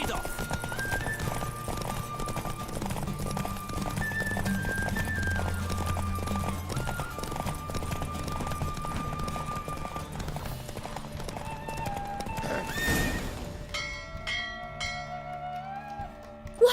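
Fast, continuous hoofbeats drive a galloping horse in The Witcher 3, with occasional neighing over game music; near the end the gallop gives way to ringing bell-like tones, and voices occur.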